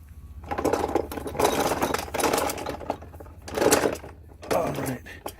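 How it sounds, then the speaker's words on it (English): A hand ratchet working a bolt loose while removing a part from a Toyota or Nissan car, heard as several bursts of quick mechanical clicking over a few seconds, close and moderately loud, with no one talking. "I have to take that out with my wrench. Sorry, not my wrench, but my ratchet."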